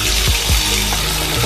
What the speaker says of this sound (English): fill the bathtub up, maybe this much with some nice warm water